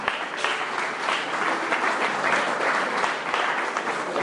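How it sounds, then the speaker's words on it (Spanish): A church congregation breaks into steady, dense applause that fills the room evenly from start to finish, loud and continuous with no voices standing out. "Denle un aplauso a ver."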